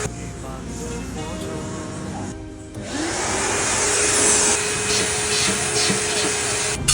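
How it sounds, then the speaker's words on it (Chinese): A vacuum cleaner sucks standing water out of an electric scooter, with rough handling noise at first before the motor's steady whine swells up loud and close. "有吸尘器就好办了，就很容易把那些积水给吸出来"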